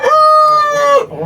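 A rooster crows once, loud and close, a single sustained call about a second long that cuts off abruptly.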